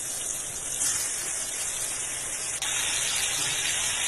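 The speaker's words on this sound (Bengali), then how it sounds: "মাছটাকে ভালো করে ভেজে নেব" Pomfret fish rubbed with salt and turmeric fries in a pan, giving a steady, dense sizzling hiss that runs throughout with no voices.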